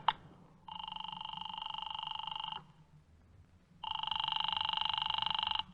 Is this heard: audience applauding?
no